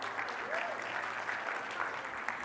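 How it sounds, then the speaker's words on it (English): An audience at a professional conference applauds, a steady dense wash of clapping at moderate loudness, with faint voices mixed in. "Round of applause."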